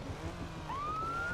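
An ambulance siren in the game Garry's Mod gives a single rising whoop that climbs and holds a steady tone, fairly quiet against a low engine and background rumble.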